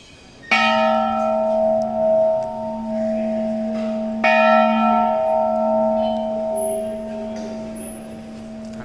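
Temple bell at the Kudupu Naga temple in coastal Karnataka near Mangalore, struck twice a few seconds apart, each stroke ringing out loud and close with a long sustained metallic hum that slowly decays.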